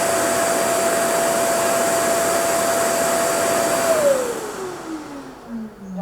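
An AUTOBOT JONR P20 Pro robot vacuum's docking station runs a loud, steady suction whir while emptying dust, holding a constant whine for about four seconds before the motor winds down and the pitch falls away.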